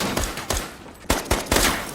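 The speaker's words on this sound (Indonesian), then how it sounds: "baku tembak menegangkan pun tak terhindarkan." Rapid bursts of gunfire ring out in a tense film shootout, several loud sharp shots cracking in quick succession with no talk over them.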